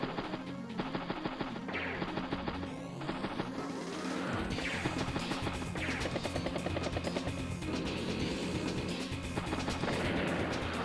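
Tank-on-tank attack in Advance Wars: Days of Ruin, a dense, loud stretch of booming cannon fire and crashing impacts with a continuous rumbling battle din and no talking.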